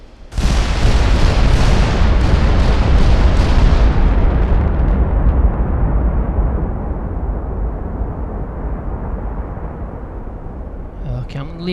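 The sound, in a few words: naval HE and AP shells firing/exploding, video game Ultimate Admiral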